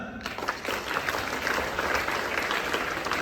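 A school assembly of teachers and students clapping together, a dense continuous burst of applause from a large group, close and even throughout.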